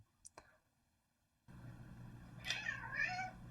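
A house cat meows several times, a close wavering cry that rises and falls over steady low background hum, after a quiet stretch with a couple of faint clicks.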